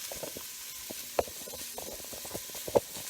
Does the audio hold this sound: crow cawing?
no